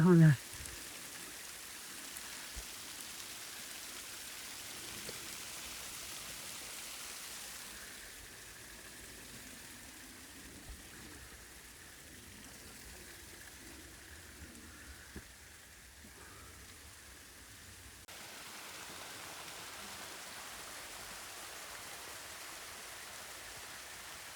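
A waterfall in Qabala, Azerbaijan, pours among rocky cliffs in the forest with a constant broadband rush of falling water at moderate distance. Faint voices are occasionally audible beneath it.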